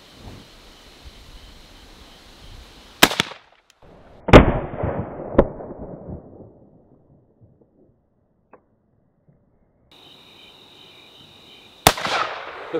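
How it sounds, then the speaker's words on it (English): Rifle shots from a 360 Buckhammer and a 30-30 crack outdoors, four loud separate reports spaced irregularly. Each is followed by a rolling echo that fades into quiet wind noise. "Now let's go out and do some more shooting with this big guy and the 30-30."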